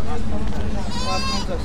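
Goats bleat amid a busy crowd at the Ashulia cattle market, a wavering animal call rising over constant speech babble and nearby talk.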